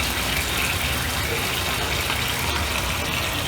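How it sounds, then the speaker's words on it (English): Water poured steadily into a black pepper crab sauce, a continuous close gushing splash that runs unbroken from start to finish with no talking. "I'm going to add a little bit of water."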